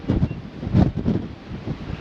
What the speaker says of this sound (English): but extremely windy